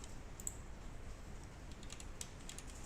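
Keys on a computer keyboard are pressed, Shift and the right arrow, a few faint, soft clicks over a quiet background hiss.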